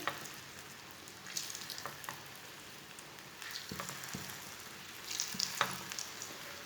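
Raw banana fries sizzle in hot oil with a soft, steady crackle, broken by a few faint clicks and small pops as pieces go in. It sounds fairly quiet and there is no talking.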